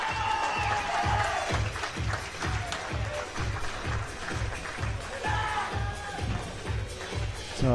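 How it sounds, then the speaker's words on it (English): Crowd at a men's -65 kg powerlifting competition at a European championship, clapping rhythmically in a steady beat and then breaking into cheers and applause, with an announcer talking over it. "Oh, the cheers are there."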